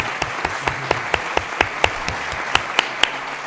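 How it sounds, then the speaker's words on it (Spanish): A crowd at a Colombian peace event applauds with moderate, fairly steady clapping, individual claps distinct against a light room background, fairly close and unaccompanied by speech. "un aplauso"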